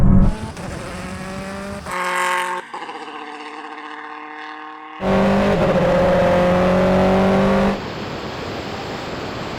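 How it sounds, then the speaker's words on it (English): Racing car engines roar and accelerate at close range in a rolling half-mile drag race between a Bentley Speed 8 and a Bentley Continental GT Speed, with breaks at the gear changes and rising engine pitch between them. "To the half mile and he's gapping."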